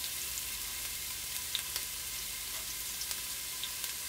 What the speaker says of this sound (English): I also want to toss in the onions. I use the red onions